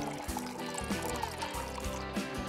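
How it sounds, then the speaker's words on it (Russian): Coffee is poured into a paper cup in a steady, continuous stream lasting a couple of seconds, heard close with a faint background. "В бумажный стакан наливаем кофе."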